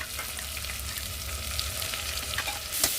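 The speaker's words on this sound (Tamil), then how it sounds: "இஞ்சி பூண்டு பேஸ்ட் போட்டுக்கோங்க." Ginger garlic paste sizzling steadily in hot oil while making biryani masala, with a few light stirring scrapes near the end and no talk.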